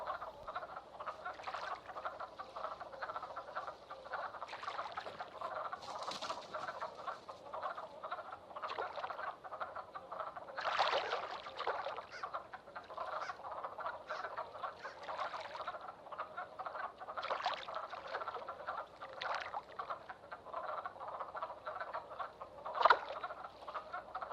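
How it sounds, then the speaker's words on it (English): A dense chorus of frogs croaking continuously in spring in Shenandoah, many overlapping calls at a steady moderate level, with occasional louder croaks standing out. "the frogs continue their single-minded competition"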